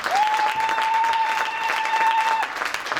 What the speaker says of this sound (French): On acclame très fortement le Seigneur.